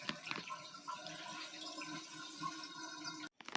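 A Pyle portable 2-in-1 washing machine draining its rinse water, a steady close gush and gurgle of flowing water that stops abruptly near the end.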